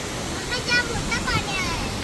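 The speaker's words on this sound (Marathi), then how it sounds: "काय पाणी धरणाला" Water rushing over a full dam fills the clip as a steady, broad roar, with faint voices partly audible through the continuous flow.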